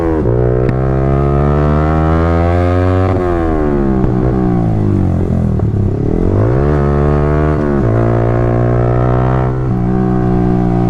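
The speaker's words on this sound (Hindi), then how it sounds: "थोड़ा थ्रॉटल करते, ज़्यादा दूर नहीं जाएंगे, बस एक छोटा सा राइड करेंगे और यहाँ से जो है थ्रॉटल करते हुए निकल।" Yamaha R15 V3 motorcycle with an Akrapovic full-system exhaust revving and accelerating through gears, loud close engine note rising in repeated sweeps with brief drops between shifts, no talk.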